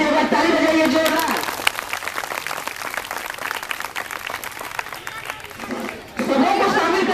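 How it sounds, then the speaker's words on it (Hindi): Audience at a school quiz in Araria clapping hard and loud, a dense, steady burst of many hands that fades briefly and then swells again. "इसके लिए आप लोग फिर से एक बार ताली बजाइए जोरदार"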